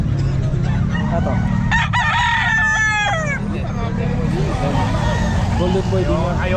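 Roosters crow loudly at a pet market, with several rising cock-a-doodle-doo calls and clucking fowl among busy crowd noise and traffic, and people talk nearby.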